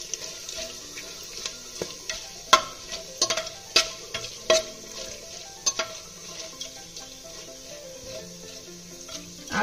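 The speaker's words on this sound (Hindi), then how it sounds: "अब हम इसमें जीरा और कुछ खड़े मसाले रखेंगे, 2 तेज पत्ते और 2 से 3 सूखी लाल मिर्च।" Cumin seeds, bay leaves and dried red chilies frying in hot oil for a spicy desi chicken curry, heard as a low sizzle broken by sporadic sharp crackles and pops, fairly quiet and without speech.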